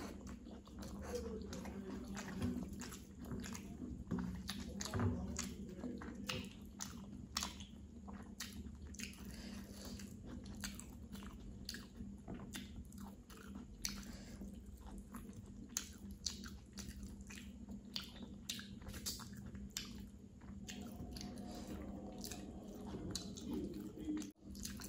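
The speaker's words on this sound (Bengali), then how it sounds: "সব শুধু চিবিয়ে খেতে হবে।" Close, wet chewing of rice with bata fish curry, eaten by hand: a steady run of soft smacks and squishes going on throughout, over a low hum, with no voices.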